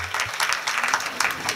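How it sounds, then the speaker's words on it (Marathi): An audience at a Marathi kirtan gathering gives a brief, steady round of clapping for a women's bhajan group, moderately loud with a faint voice underneath. "त्यांच्यासाठी एकदा टाळी वाजवा"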